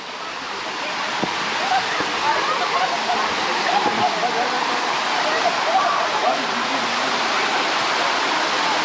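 A waterfall pours into a canyon at Tatlıca Falls in Erfelek, Sinop, as a steady, dense roar of rushing water throughout, close and fairly loud, with a few faint knocks in the first seconds.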